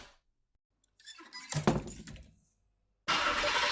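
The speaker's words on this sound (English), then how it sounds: "The sound of the car starting up and driving away" A car starts up in a closed garage and drives away, heard as a thunk and a rising engine burst that fades, followed by a loud steady broadband noise near the end.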